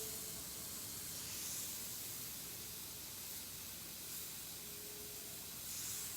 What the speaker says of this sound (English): I just do the airbrush work.